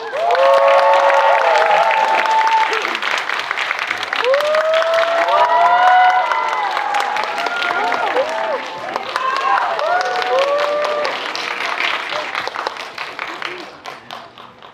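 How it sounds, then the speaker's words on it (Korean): A cinema crowd at a stage greeting for the film Pilot gives the actors big applause, with dense clapping and cheering, high shrieks and whoops rising over it, fading slightly toward the end. "자, 큰 박수 부탁드립니다."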